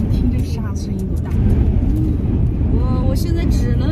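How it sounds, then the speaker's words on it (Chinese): Wind-driven sand patters and rattles against the body of a camper trailer being towed through a windy region of Xinjiang, a continuous gritty rush mixed with road and engine noise, with a voice talking over it. "就听那噼里啪啦的沙子打到这车身的声音啊"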